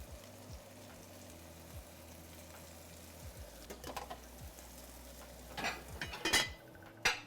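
Chopped tomato sizzles and is stirred in a hot pan for an Indian curry, with soft frying hiss, scraping of a utensil and clinks of cookware getting louder toward the end, no voices.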